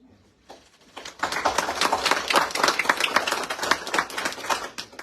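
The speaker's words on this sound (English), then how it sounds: "give her a big round of applause" Audience applause at a county board of commissioners meeting, starting with a few scattered claps, then swelling into a lively burst of many hands clapping that carries on to the end.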